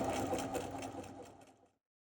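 A sewing machine stitches fabric on a quilted turkey table runner, running with a steady close mechanical whir for about a second and a half before it stops abruptly into silence.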